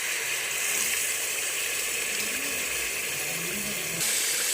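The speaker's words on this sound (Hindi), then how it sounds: "थोड़ा सा पानी डालेंगे" Water poured into a cooking pan while making a potato and pea curry, a steady hiss and trickle of liquid lasting several seconds, heard alone.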